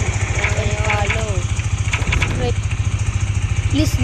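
A newly bought motorcycle's engine runs steadily up close, its low throbbing pulse continuous throughout while a person talks over it.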